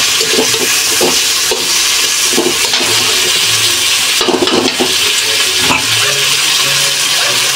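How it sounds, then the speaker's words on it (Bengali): A pangas fish head being stirred while cooking, with a loud, steady frying sizzle and scraping stirring strokes that recur every second or so, and no talking. "একটু লাড়া দিলাম"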